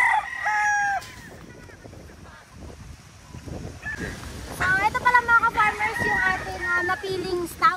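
A rooster crows among a newly bought group of stags and pullets on a farm, with several bright, rising calls layered over other fowl clucking and background noise.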